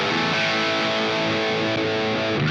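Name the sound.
electric guitar through blues overdrive pedal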